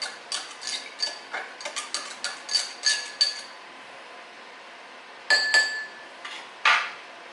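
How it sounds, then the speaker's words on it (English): A metal knife stirs a glass of water mixed with apple cider, lemon and cinnamon, giving a quick run of bright clinks and taps against the glass, then a pause and a few scattered louder clinks. "I'll just use my knife to stir everything up"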